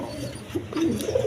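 Close, low, burbling coos come from Rasgolla pigeons in a farm loft, rising in a short bubbling phrase toward the end of a brief moment.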